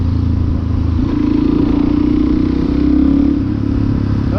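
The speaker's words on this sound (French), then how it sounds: "une bonne sonorité sur la moto, c'est vachement agréable" Motorcycle engine heard while riding, a loud, close, continuous drone that dips briefly, then swells as the revs build and fades slightly toward the end.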